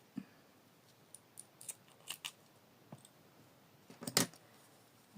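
Scissors snip crochet yarn on a bookmark project, giving several quiet, close clicks and snips with one sharper cut near the end, against a quiet room.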